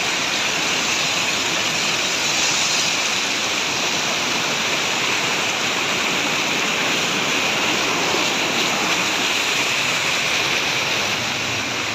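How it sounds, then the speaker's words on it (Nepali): Mountain stream in the hills rushing steadily, a loud, continuous broadband roar of flowing water with no break, heard up close and without talk. "यो यताबाट आउने खोला के खोला हो?"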